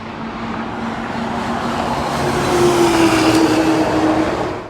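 Onboard race car at speed on the pit straight at Sebring International Raceway, a steady loud engine drone with a rising whine, no talking.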